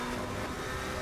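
A race car engine in Assetto Corsa Competizione drones steadily at high revs in a single continuous burst, dense and buzzing with a constant pitch, with no voices over it.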